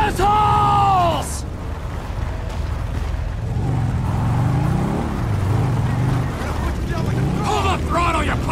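A vehicle engine revs in Grand Theft Auto V, rising and falling over a low rumble while someone shouts loudly over it at the start and end.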